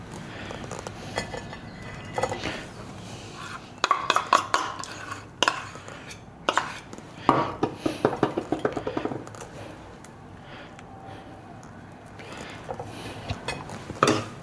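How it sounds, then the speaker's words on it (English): Knife scraping and spreading hummus across toast, with soft smearing strokes broken by clusters of sharper clinks and taps of metal against a plate, close and intermittent, with no talking. "Spread the hummus evenly."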